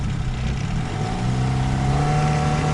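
A motor revs up steadily and loudly for a few seconds, its pitch climbing gradually with no voices over it.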